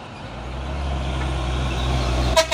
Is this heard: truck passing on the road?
yes